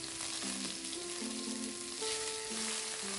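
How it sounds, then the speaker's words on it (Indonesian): Garlic, scallion whites and tomato sautéing in hot oil in a wok, a dense, steady sizzle close up throughout with faint tonal hum beneath. "kita tumis bawang putih, daun bawang bagian putihnya,"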